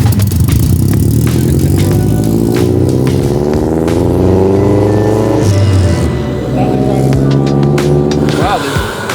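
A drift car engine revs hard and climbs through first gear, loud and close, with a harsh rising drone and rattling clatter throughout.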